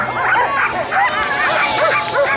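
Sled dogs at the 2016 Iditarod restart on Willow Lake, Alaska, give close, excited, repeated yips and barks in quick bursts, with faint outdoor crowd noise behind.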